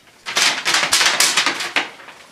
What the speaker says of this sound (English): comedically timed paper tapping